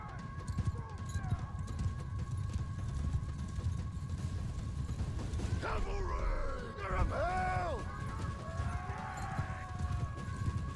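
Horses galloping in a Mount & Blade 2: Bannerlord battle with a Roman faction, a steady drum of hooves under a continuous droning bed, with horse whinnies and groans rising in the middle.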